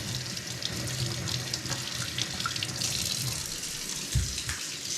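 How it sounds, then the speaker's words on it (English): Potato skin is scrubbed with a vegetable scrubber under running tap water, a continuous close sink stream with faint brushing textures and a small knock near the end. "I'm gonna do a little scrub on that skin to get any dirt off"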